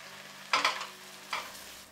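Onions and tomatoes cooking in a pan for paneer tikka masala: a low sizzle broken by two short bursts of stirring or scraping, close and without talk.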